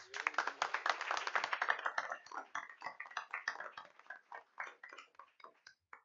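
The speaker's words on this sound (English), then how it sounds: "Let's give these folks a round of applause." A school board meeting audience claps for honored retirees. The clapping starts dense, then thins into scattered, separate claps before fading out.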